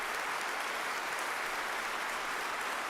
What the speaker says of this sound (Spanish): La comunidad aplaude al Ministro de Justicia